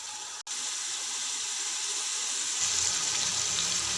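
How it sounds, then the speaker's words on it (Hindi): Water pours steadily into a pot of fried chickpeas and onion masala, a continuous close hiss that grows fuller and louder partway through as the pot fills. "अब इसमें हम 4 प्याली पानी शामिल कर देते हैं।"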